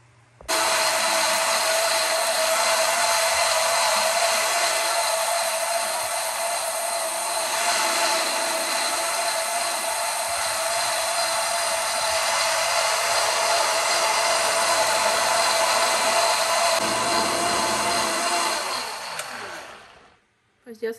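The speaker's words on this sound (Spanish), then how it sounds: "Vamos a taparla y vamos a llevarla a licuar." A blender whirring as it purées red chile sauce for pork, a continuous loud motor drone that runs steadily for about twenty seconds before cutting off abruptly.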